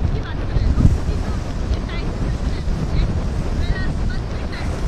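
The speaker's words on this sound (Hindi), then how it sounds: "जेटी पे पानी आ रहा है वो हवा और टाइड की वजह से बहुत ज्यादा अंदर आ रहा है" Strong wind buffets the microphone over surging sea water washing onto a jetty at Mandvi, Gujarat, during Cyclone Biparjoy, a steady loud roar of gusts and waves throughout.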